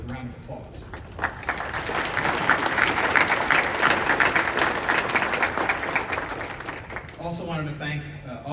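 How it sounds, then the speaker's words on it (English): Audience at a water utility's annual meeting claps for the board, a dense sustained round of applause building after a brief spoken lead-in and fading as talk resumes. "would you mind giving the board a round of applause?"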